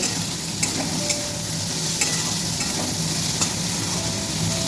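A fish head and Malabar spinach stalks fry with salt while being stirred. Loud, close sizzling carries on steadily, with regular scraping knocks from the spoon against the pan.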